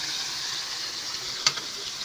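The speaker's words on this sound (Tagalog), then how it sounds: "Prito lang natin." Soft, steady sizzling of chicken liver frying in a pan, quiet and continuous, with one brief clink of a utensil partway through.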